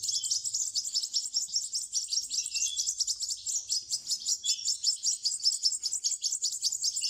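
Goldfinch fledglings about twelve days old chirp continuously in a dense, high, rapid chatter of overlapping calls, close and steady throughout, with no talking.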